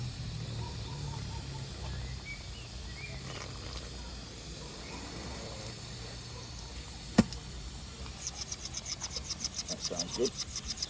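A soft steady hiss runs beneath a sharp click, then a rapid rhythmic pulsing hiss builds near the end as the injector feeds a 5-inch gauge model steam locomotive on first fire.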